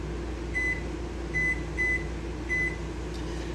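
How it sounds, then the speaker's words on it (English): Short electronic beeps from a kitchen timer being set for five minutes while making pizza dough, four separate clear tones in an uneven rhythm over a steady appliance hum, with no talking. "So I'm going to go ahead and set a timer for 5 minutes."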